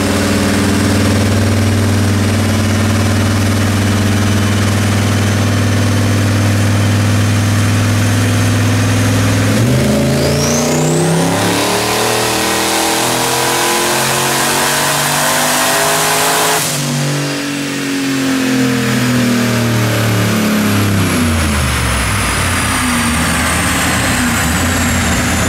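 Boosted car engine with ported heads running on a dyno, loud and steady before climbing into a sustained high rev pull that peaks and drops back, with no talking.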